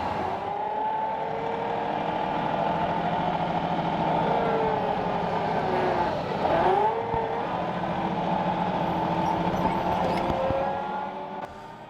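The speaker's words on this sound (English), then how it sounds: "It feels a little weird driving the tractor down the road like this." Tractor driven along a road, a steady engine drone heard from on board throughout, with a brief pitch sweep midway.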